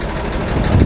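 A freshly rebuilt car engine with a new rebuilt carburetor and 160-degree thermostat runs steadily during a test run, a close, continuous low rumble with no talk.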